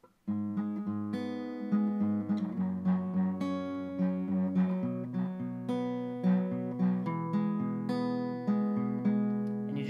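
Guitar plays the chord progression of a song, each chord plucked or strummed in a steady rhythm with clear changes, close and moderately loud.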